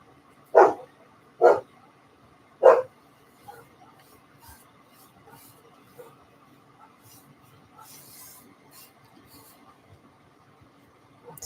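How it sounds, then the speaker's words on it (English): Three loud dog barks sound outside in fairly quick succession near the start, then fade into a quiet background with faint scattered noises. "Sounds like somebody must be walking their dogs."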